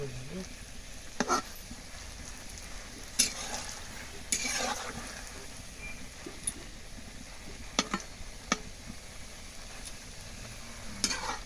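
Food fries steadily in a pan, a soft continuous sizzle with occasional sharp clinks and scraping stirs, while faint voices murmur in the background.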